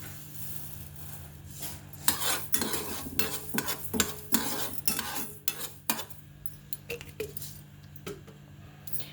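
Fenugreek and mustard seeds roast dry in a pan while a spoon stirs them, giving rattling, scraping clinks and soft crackles in irregular bursts, quiet and close with no speech.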